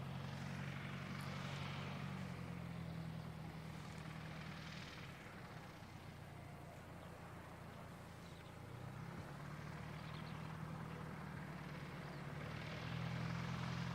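Light aircraft touching down on a grass runway at Christchurch Airport, a steady propeller engine drone heard from a distance that rises and falls across the landing, with no voices.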